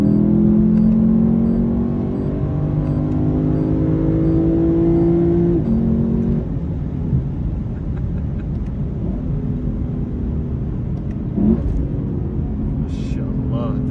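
Loud V8 exhaust of a 2025 Lexus LC 500 heard from inside the cabin, a steady deep drone rising in pitch as it revs through the gears, with a brief dip around a shift midway.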